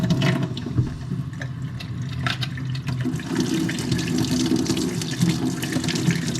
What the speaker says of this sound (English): Probably just wash this in the sink, I think.